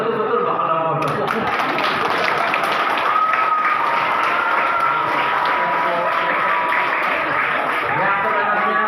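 Audience at a retirement speech breaks into continuous applause, dense clapping mixed with voices and some cheering, holding loud and steady throughout.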